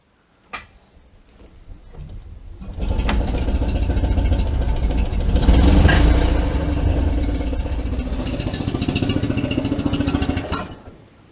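Invacar engine started and running in neutral, a steady close putter that builds after a few seconds, swells briefly, then cuts off near the end, heard alone without talking.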